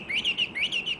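Two caged wood thrushes hung outdoors, giving a quick run of bright, rising and falling chirps in two rhythmic phrases, close and loud with no talking.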